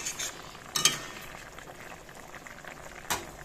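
Pumpkin, potato and garlic cooking in a pot give a steady low bubbling simmer, with a couple of brief metallic clinks from a utensil, no talking.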